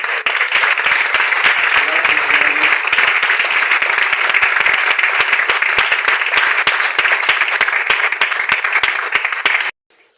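A church congregation claps loudly and continuously, a dense, steady wall of applause that stops abruptly near the end.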